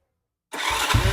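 Old motorcycle with a newly replaced carburetor and a spark plug that had been failing, roaring to life after a second of silence and then running steadily at close range.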